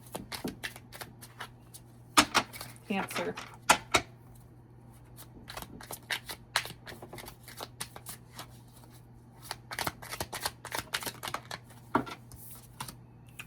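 Tarot cards are shuffled in quick, crisp bursts of riffling and tapping, close and fairly quiet, with a single spoken word partway through.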